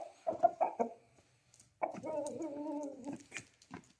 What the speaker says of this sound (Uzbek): Mana xo'roz.